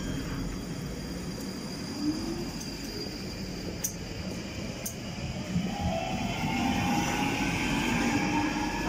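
A London Underground train pulls away from a platform toward Morden, a loud steady rumble with rising whine as it accelerates, joined by higher squealing tones in the latter half.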